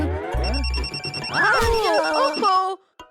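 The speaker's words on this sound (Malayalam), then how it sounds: "ആരാ ഈ നേരത്തെ എന്റെ ഫോണിൽ വിളിച്ച് മാഡത്തിനെ ഡിസ്റ്റർബ് ചെയ്യുന്നത്?" A cartoon telephone rings with a rapid, repeating electronic trill for about two seconds, set against animated voices and effects before it cuts off.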